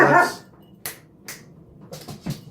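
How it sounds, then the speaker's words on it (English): Indoors, a pet dog lets out a few short, fairly faint barks and yips at people outside, spaced out over a couple of seconds. "She also likes to bark because people are outside."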